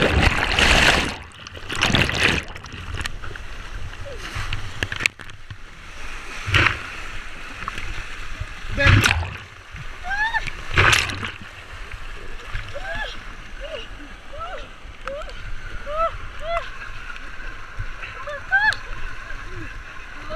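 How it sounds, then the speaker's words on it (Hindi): A river raft flipping over in whitewater rapids, loud splashing bursts and surging water early on, then rushing current with scattered bird calls and faint voices in the background. "इस तरह हमारी बोट पलट गई और सारे लोग उससे गिर के पानी में डूब गए"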